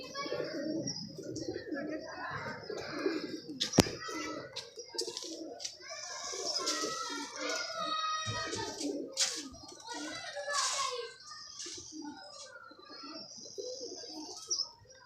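Pigeons kept by a fancier coo repeatedly in soft, throaty bursts close by, with chirps and a person talking intermittently over them.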